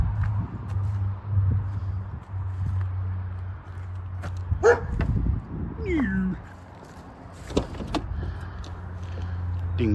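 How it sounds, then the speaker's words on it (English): A neighbor's dog barks a few times at mid-distance beside a salvage-auction Audi TT Mk1 under repair, over a steady low engine idle, with brief mechanical clicks. "Dingbat neighbor dog."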